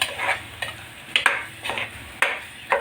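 A sizzling curry with tomato puree is stirred briskly in a cooker, giving repeated scraping strokes in an uneven rhythm over a soft background sizzle, close and fairly loud.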